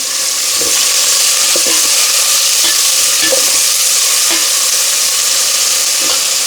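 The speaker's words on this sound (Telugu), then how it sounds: "టమాటాలు వేసాం కదా మిక్స్ చేద్దాం" Tomatoes stirred and cooking in hot oil for a black-eyed pea curry, a steady loud sizzle running throughout with soft spoon scrapes against the pan at irregular intervals.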